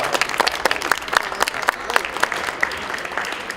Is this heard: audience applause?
yes